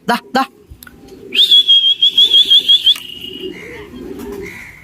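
A wild pigeon caught in a trap gives a rapid series of sharp, repeated whistling calls, loud and close, after a couple of brief knocks, then softer trailing notes.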